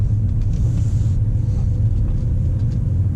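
Steady low engine rumble from a 2013 Mercedes C63 driven in sports mode on a twisty road, heard from inside the cabin with the sunroof slightly open, a continuous loud drone with no talk.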